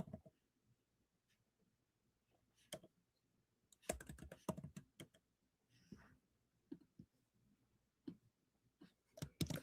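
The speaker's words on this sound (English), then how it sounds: "I'm going to type it in the chat." Keys tapped on a computer keyboard in quiet bursts, a few isolated clicks followed by quicker clusters of typing, close and fairly faint, with no talk.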